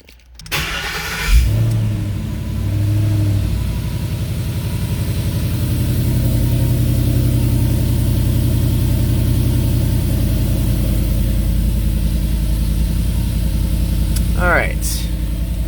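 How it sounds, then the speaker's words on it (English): A 2012 Ford Mustang GT in a tight garage cranks and fires up, then settles into a steady, deep idle that holds loud and even, with a brief high squeak near the end. "next we have the 2012 Ford Mustang GT"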